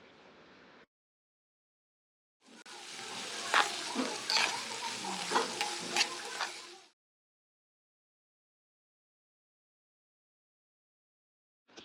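Carrots, cabbage and beans are stirred in a hot pan for chicken hot and sour soup, a single burst of sizzling and scraping lasting about four seconds between stretches of silence.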